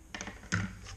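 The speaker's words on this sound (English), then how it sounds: "You can hear that positive click." A Glock pistol snaps into a tightened kydex holster with a sharp, close click, preceded by a few lighter plastic taps and handling sounds, with no talking.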